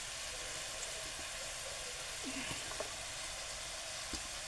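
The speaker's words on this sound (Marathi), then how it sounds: "आता आपण याच्यामध्ये लाल माठ जो चिरलेला आहे आपला तो ॲड करणार आहोत." Chopped red amaranth and potatoes frying in a pan, a steady soft sizzle with a few faint clinks and stirring scrapes scattered through, fairly quiet and close with no talk.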